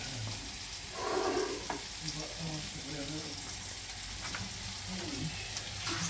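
Food sizzles and crackles in a pan at moderate volume, with occasional stirring and faint background noise throughout.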